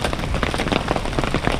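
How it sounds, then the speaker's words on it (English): Big hailstones pelt down outdoors, heard from under a shelter as a dense, loud, irregular clatter of close impacts with no pause. "And we got some big hail coming down now."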